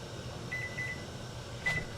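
In a home kitchen during canning, a timer gives a couple of short, thin electronic beeps, one longer tone and then another brief one, over a low background hum.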